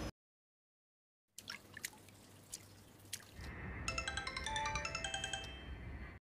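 A mobile phone rings in a film scene: a melodic, chiming ringtone repeats for a couple of seconds. It follows a silence and some quiet background noise, and nobody speaks.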